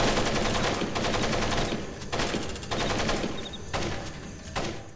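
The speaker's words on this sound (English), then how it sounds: "There's a whole bunch of shooting going on." Rapid bursts of automatic gunfire from a Splinter Cell Pandora Tomorrow firefight, dense and continuous with several loud volleys tapering into pauses.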